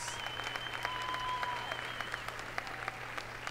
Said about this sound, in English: One more round of applause for our 4 seniors, Leah Alice, Brenna Perinar, Lindsay Nunez,